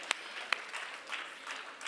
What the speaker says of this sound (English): Let's give Mitch a round of applause.